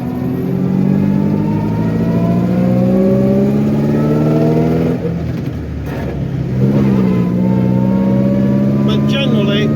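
A vintage Alvis 12/50 car engine pulls away on a hill start, its loud mid-pitched drone climbing steadily through the revs, easing briefly midway and then rising again, close and sustained.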